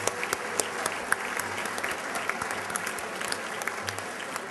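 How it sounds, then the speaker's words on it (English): Steady applause from a large dinner audience at the annual Congressional Dinner, many hands clapping in a continuous dense wash with occasional sharper claps, heard in a big room and without speech. "Let's give our head table a round of applause."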